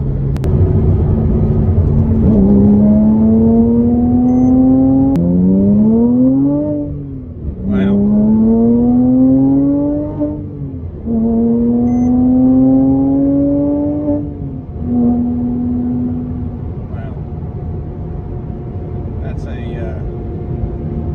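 A modified Porsche Cayman S engine pulls hard through several gears while driving, loud rising revs dropping at each shift, then settling to a steady cabin rumble.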